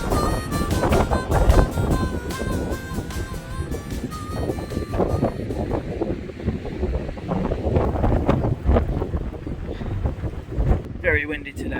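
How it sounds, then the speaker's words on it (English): Strong wind buffets the microphone in loud, continuous gusts in a pub car park in Wales, with a faint melodic line audible early on and a brief voice near the end. "Very windy today, very cold"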